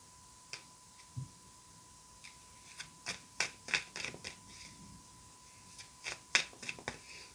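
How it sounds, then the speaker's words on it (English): A deck of tarot cards being cut and handled by hand, a sparse series of soft, crisp card snaps and rustles, some in quick clusters, over a quiet room with a faint steady tone. "I'm just going to kind of cut the deck for one thing"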